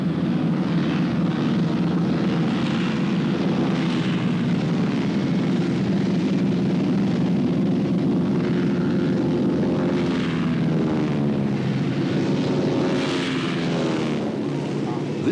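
More than 40-year-old Harvard training aircraft flying at the Oshkosh air show, their propeller engines giving a loud, continuous droning roar that swells and shifts in pitch as the planes pass, with no talking.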